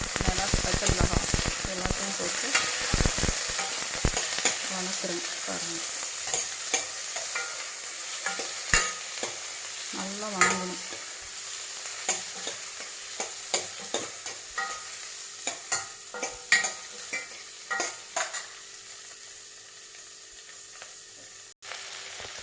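Cumin, chopped tomato and onion fry in a pan for a spinach and moong dal dish, with a steady sizzle under repeated scraping and clattering stirs that come thick early on and grow sparser later.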